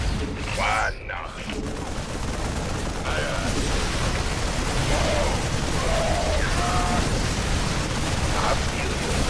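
Auto turrets in the video game StarCraft 2 fire in a dense, continuous mechanical barrage over a loud battle backdrop. Scattered blasts and bursts punctuate the steady clatter throughout, and a voice speaks over it.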